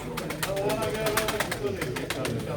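Pigeons coo softly in a loose, overlapping murmur, close by, at a pigeon auction in the Netherlands, under a busy background of rustling and chatter.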